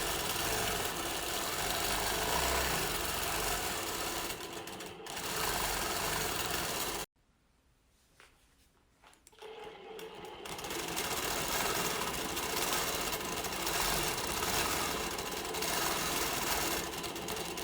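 A sewing machine free-motion quilting pebble shapes, its steady fast-running stitching hum continuing loudly, stopping briefly for a few seconds of near-quiet, then resuming at the same even pace.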